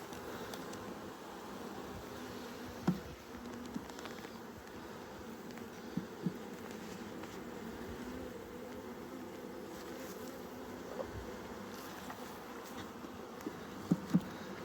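A steady, dense hum of many honeybees buzzing close by inside a shipping package, continuous throughout with a few faint knocks.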